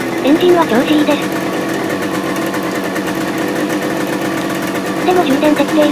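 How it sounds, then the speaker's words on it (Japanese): An old Suzuki T125 Wolf motorcycle engine running after a kick start, a loud close rapid two-stroke-like putter holding steady throughout, with a voice speaking over it. "キック一発、エンジンは調子いいです。"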